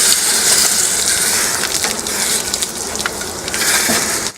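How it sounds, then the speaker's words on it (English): An overheated bee smoker hisses and sizzles loudly as water douses it, a close, continuous crackling gush that fades near the end. "Now that sizzle is an indication that it was far too hot"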